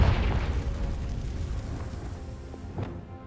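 A Confringo fire spell blast in the video game Hogwarts Legacy: a single loud, deep booming explosion up front that rumbles and fades over a few seconds, with a faint crackle near the end.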